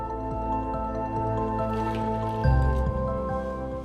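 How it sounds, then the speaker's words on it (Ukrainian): Flour scalded with water, about 200 grams to a glass, is stirred for Easter paska dough, giving soft wet squishing and dripping sounds over a steady droning hum. "Треба добре перемішати щоб борошно запарилося."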